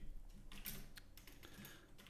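Keystrokes on a worn, crusty computer keyboard tap out in irregular quick bursts, close and fairly quiet, with no voice over them.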